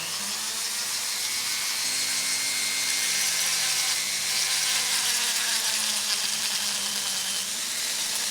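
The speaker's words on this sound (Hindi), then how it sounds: "ड्रिमल को जब स्टार्ट करो ना तो एकदम लो आरपीएम पे रखूँगा" A Dremel rotary tool running at low RPM grinds and smooths hardened 3D pen plastic on a handmade Batarang, a continuous close, loud whirring buzz with a shifting grinding edge that never pauses.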